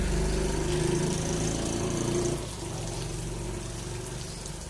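Continuous hiss of rain falling, mixed with a low rumbling engine-like hum that eases slightly halfway through.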